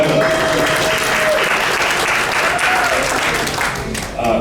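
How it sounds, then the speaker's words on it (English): An audience at a real estate investors' meeting applauds steadily, dense clapping that stays loud throughout with a voice heard over it. "Clap it up. Clap it up,"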